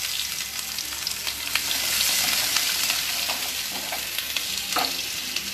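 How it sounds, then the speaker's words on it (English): Onions sautéing in hot oil over a low flame after spiced masala has cooked down, with a steady broad sizzle and a few stirring scrapes, up close and continuous, no talking. "Saute the onions nicely."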